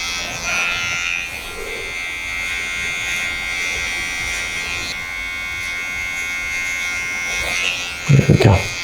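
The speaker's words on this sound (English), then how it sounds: "Use our trimmer and our cutting comb, our size 5 cutting comb, just to create a bit more of a sharper taper" An electric hair trimmer fitted with a size 5 cutting comb hums steadily and close, tapering short back and sides during a scissor cut, its buzz running throughout before a brief clatter near the end.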